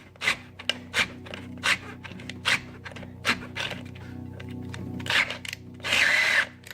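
Small low-torque power driver working on bolts in a car engine bay, with repeated short whirring bursts and ratcheting clicks at an irregular rhythm, close and fairly loud over a steady low hum, ending in a longer burst.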